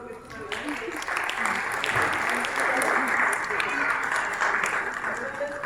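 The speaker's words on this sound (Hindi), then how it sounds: "ताली बजा दो भाई, बच्चों को" An audience at a church Christmas programme claps for Sunday school children, with steady, sustained applause throughout and a voice talking over it.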